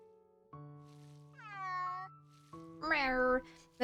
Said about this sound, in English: Those cat noises sound so weird